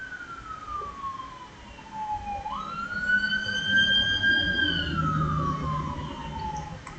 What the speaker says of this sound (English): I live near a highway, so you're gonna constantly hear cars going past.